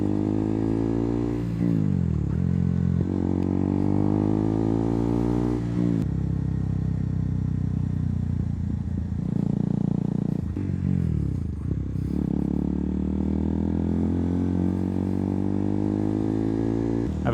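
A KTM Duke 200 motorcycle revving and shifting through gears on a ride over tar-and-chip roads, its engine note climbing in repeated rising sweeps, dropping between shifts, up close and loud with some road and wind noise.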